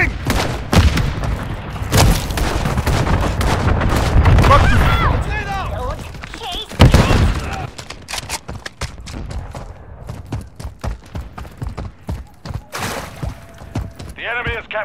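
A grenade blast and bursts of gunfire ring out in a Modern Warfare 3 match, with heavy booms and shots early on, then scattered firing, while voices call out over the action.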